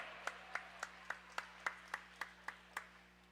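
Audience at a junior roller derby bout clapping in a steady rhythm, about a dozen evenly spaced claps, moderately close and clear over a quiet background.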